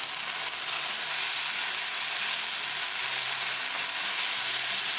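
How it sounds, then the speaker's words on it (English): Okra and sardines fry in a pan, making a continuous, even hiss and sizzle close by, with faint soft stirring underneath. "now this is the third time we are stirring it. So slowly stir it."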